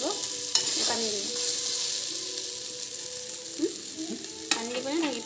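Potato pieces frying in a pan for a home-style chicken curry, a steady broadband sizzle with a few sharp scrapes and knocks as a spatula stirs them, no voices.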